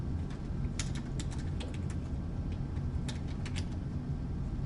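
Keys on a computer keyboard are struck in an irregular run of quick, light clicks over a steady background hum, close but fairly soft, with no talking.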